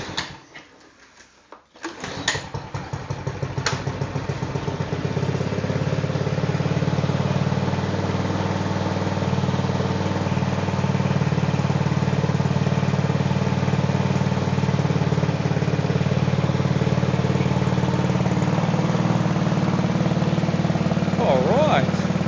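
A kick-started two-stroke engine, on a free machine being repaired, catches after a brief sputter and settles into a steady, buzzy, loud idle that runs on without a break, close up, with no talk.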